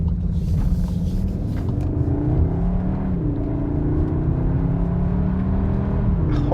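A 2021 Cupra Formentor VZ2 crossover drives hard through corners, its engine a steady loud rumble with rising and falling revs and tire roar throughout, no voices.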